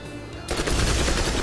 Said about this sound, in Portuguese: Deixa eu ver como é que se sai essa submetralhadora